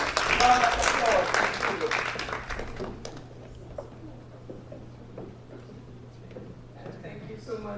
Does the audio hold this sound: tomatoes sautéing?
no